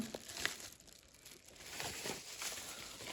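A plastic bag of bath salt crinkles and rustles in handling, soft close crackles and crunches spread unevenly over a few seconds at low volume.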